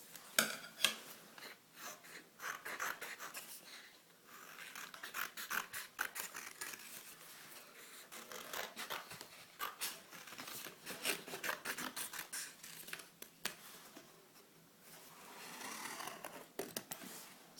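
Scissors cutting a goat shape out of paper for a magnetic note holder craft, a steady run of close crisp snips and rasping paper scrapes, with no talking.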